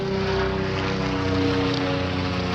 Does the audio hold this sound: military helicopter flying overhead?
yes